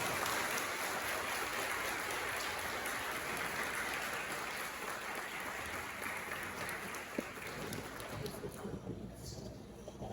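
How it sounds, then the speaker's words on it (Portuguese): Applause from wedding guests inside a church, a broad wash of many hands clapping that sustains for around ten seconds, fairly distant and soft with a faint room hiss. "Uma salva de palmas."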